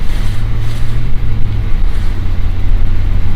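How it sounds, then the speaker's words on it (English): A Ford 6-liter diesel truck engine idles with a deep, steady low rumble and faint clatter, loud and close throughout, no voices. "the Ford 6-liter is the best sounding diesel"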